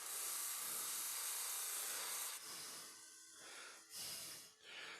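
A wood lathe spun up fairly fast drives a buffing wheel loaded with rouge, giving a continuous broad rushing hiss with soft rubbing swells near the end, loud and close with no talk.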